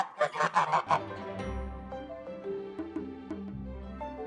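Goose honks from the video game Love and Deepspace: a quick run of about five loud nasal honks over the first second, then a musical score that carries on alone.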